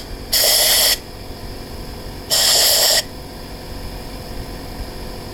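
Two sharp bursts of compressed air hiss from a nozzle, each lasting about half a second, blowing debris out of screw holes bored through wooden beams into posts, with faint background noise between the blasts.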